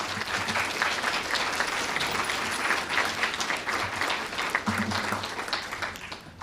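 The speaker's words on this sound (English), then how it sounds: "Let's give this cast and crew another round of applause." A theater audience applauds a cast and crew steadily, a dense patter of clapping hands that carries on for several seconds before starting to fade.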